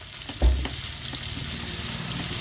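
One large sliced onion sautés in a pan for a homestyle squid roast, giving a constant soft sizzle with a single low thump early on.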